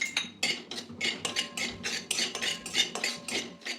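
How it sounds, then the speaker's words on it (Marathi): Dry poppy seeds are roasted without ghee in a pan over a low flame for gum laddoos, stirred with a spoon. Close, rhythmic scraping and light clinking strokes repeat steadily, with no voices. "मंद आचेवर ही खसखस आता आपण भाजून घ्यायची आहे."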